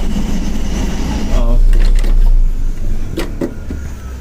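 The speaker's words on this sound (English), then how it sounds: "So this is the bus." A bus at Kukke Subramanya hums and whirs close by, with a rising motor whine and clunks partway through, while a voice talks over it.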